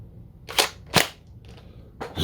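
A Kronos Battle Scout Captain America toy dart blaster fires three sharp, close pops with a fainter mechanical click between them, spaced unevenly over a couple of seconds.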